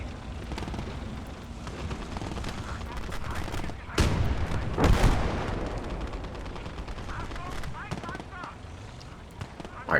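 Steady gunfire and artillery blasts on a battlefield in the Gates of Hell video game, a constant rattle of shots with a louder burst of explosions midway, while players talk over it.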